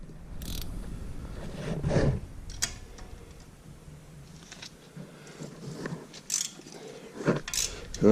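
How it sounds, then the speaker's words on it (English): A wrench loosens the 13 mm exhaust header bolts on a Can-Am Outlander XMR 850 ATV, giving faint, scattered ratcheting clicks and metallic ticks against a quiet workshop background. "Now we loosen off the header bolts, and it's 13 mil."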